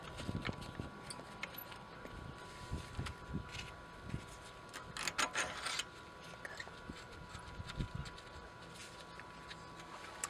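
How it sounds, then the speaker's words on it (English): Small metal bolts being screwed back into the brake caliper of an R1 motorcycle during a brake pad install, giving quiet scraping, rubbing and clicking hand-tool sounds at close range, with a brief rasping burst midway. "Then you screw in those bolts again."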